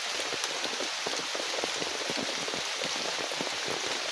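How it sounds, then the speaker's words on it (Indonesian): Steady rain falling at a campsite, a dense even hiss of drops with many small pattering taps on surfaces, constant and close, no talk. "Jadi kemungkinan kita akan menunggu hujan sampai reda."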